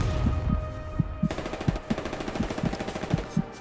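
Rapid bursts of machine gun fire in the World War II shooter game Hell Let Loose, loud and close, arriving as repeated sharp volleys with short pauses.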